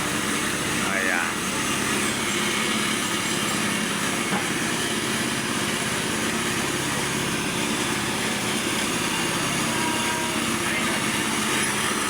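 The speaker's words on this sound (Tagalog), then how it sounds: "Kinukumpak niya yung lupa." A walk-behind compactor engine runs at a construction site while compacting backfilled soil, giving a loud, continuous, rattling high-revving drone that persists throughout at constant level.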